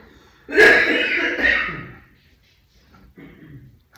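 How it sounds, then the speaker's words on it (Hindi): A single harsh, drawn-out cough fit up close, rasping for over a second, followed by quiet and a faint, brief sound. "खांसी देखो इनकी खांसी बहुत जहरीली, इतनी जल्दी जाती नहीं।"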